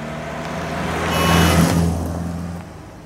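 A car approaches and passes close by, its engine swelling to a peak in the middle and then fading away.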